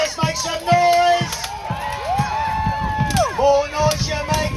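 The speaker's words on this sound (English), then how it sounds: "Come on, audience, keep cheering." Crowd cheering and whooping at a knights' show at Arundel Castle, loud bursts of voices rising and falling in waves, with shouting mixed in and a rhythmic thumping underneath.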